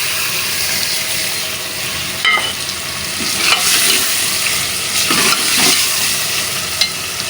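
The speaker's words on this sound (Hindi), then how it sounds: "अब कीमा और शिमला मिर्चें दोनों एक साथ ऐड करेंगे।" Steady loud sizzling of minced meat and capsicum dropped into hot frying masala, with scraping stirs of a spoon against the pan breaking through every second or two.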